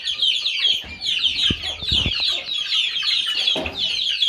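Chickens cluck steadily inside a freshly cleaned and swept chicken coop, a busy layer of close, overlapping clucks and chatter with a few louder bursts, with no talking.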